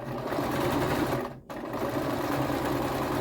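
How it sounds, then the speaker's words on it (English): A sewing machine stitching a pillow made from drying mats runs continuously up close, pausing briefly midway as it reverses from forward stitching to back stitching before running again. "Let me go forward and then then back stitch and then come forward."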